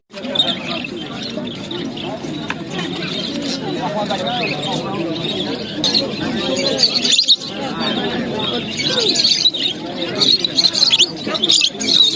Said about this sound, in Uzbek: Har bozor shu yerda bo'ladi, Qush bozorda.